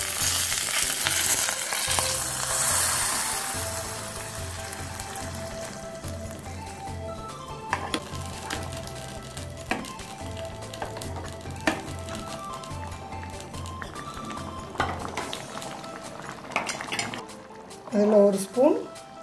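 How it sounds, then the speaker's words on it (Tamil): Cumin, urad dal, curry leaves and a dried red chili tempering in hot oil for a bottle gourd poricha kootu: a loud, steady sizzle at first that gradually settles, with utensil clinks and scraping throughout and a clatter near the end. "இதில் கொஞ்சம் கருவேப்பிலையும் ஒரு வரமிளகாயும் போட்டுக்கோங்க."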